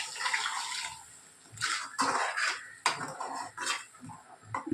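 Tamarind water is poured into simmering eggplant kuzhambu in a home kitchen, with splashing liquid and repeated clinks of metal pots and utensils in uneven bursts.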